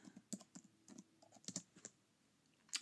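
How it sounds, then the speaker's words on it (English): Quiet, irregular tapping of keys on a computer keyboard, bursts of clicks with short pauses between them, close by. "Sister Joan would be so disappointed in my typing skills."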